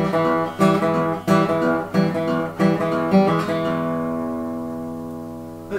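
Blues guitar fingerpicked in E: a few steady plucked notes with a thumbed bass, each attack ringing out, then a final chord left to sustain and fade; no talking.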